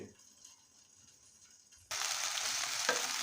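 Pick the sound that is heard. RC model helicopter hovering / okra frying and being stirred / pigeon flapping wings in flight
okra frying and being stirred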